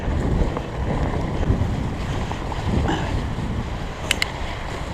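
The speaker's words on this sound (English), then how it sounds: "You can hear Current River. You guys hear that?" A raging river swollen by snowmelt and rain, heard at night from a fat bike trail, roars as a steady, loud broadband rush of water that fills the whole scene without a break.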